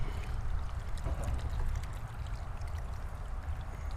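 Water poured slowly from a watering can onto packed soil in greenhouse seed-starting cells, a steady soft trickling and splashing that continues close by throughout.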